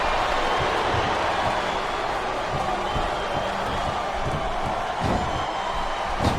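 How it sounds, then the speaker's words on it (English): An arena crowd roars and cheers in the WWE SmackDown vs Raw 2008 wrestling video game: a loud, continuous wash of crowd noise with faint rhythmic thumps and occasional sharp slams underneath. "It sounds like this capacity crowd has something on their minds."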